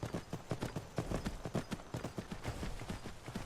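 Horse hooves in the Skyrim video game clip-clop in a brisk, continuous rhythm of many rapid hoofbeats over a noisy ambient bed, steady and fairly close with no talking.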